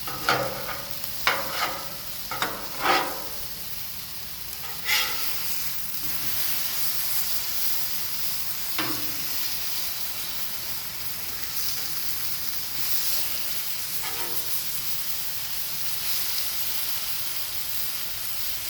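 Chicken frying on a Blackstone griddle, a continuous close sizzling hiss with a few metallic spatula scrapes early on, no talking.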